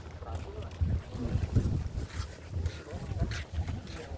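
Boat engines hum and chug over water with gusty wind buffeting the microphone, while a person talks underneath.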